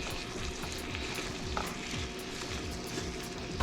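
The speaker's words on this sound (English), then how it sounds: "We give it another stir" Greens and shrimp sizzling and frying in a pan while being stirred, a loud, dense crackle with rhythmic scraping of the spoon, close up and continuous with no talk.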